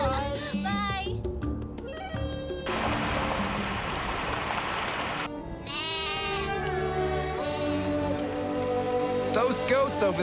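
Goats bleat repeatedly in a village in Mali, several calls close by over a rush of rain-like noise, with voices talking in between.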